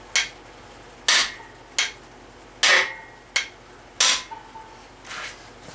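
Metal hammer blows strike a cam bearing driver fitted with a steel hammer bushing and aluminum shaft during a 383 engine build: seven sharp ringing clanks at irregular intervals, close and loud, with no talk.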